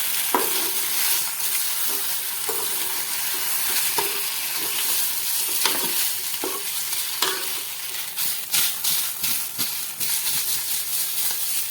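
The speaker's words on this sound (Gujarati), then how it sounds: "હવે આપણે નાસ્તાને સારી રીતે મિક્સ કરી દઈએ" A savoury snack made from leftover rice is stirred in a kadai after tempering, with steady scraping and tossing against the metal over a constant sizzle, close and loud.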